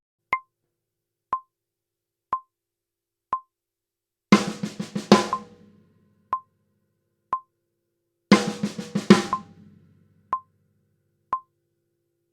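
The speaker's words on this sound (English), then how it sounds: "The first is a 6-stroke roll, a pattern of 6" Two separate bursts of a six-stroke snare roll, played as sixteenth-note triplets at 60 BPM, each lasting about a second, set against a steady metronome click on every beat.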